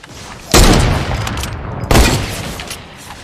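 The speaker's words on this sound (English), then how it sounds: "Watch this, I'm about to snipe somebody." Sniper rifle fire in the Fortnite video game, two loud sharp shots about a second and a half apart, each with a long rumbling decay that fills the gap.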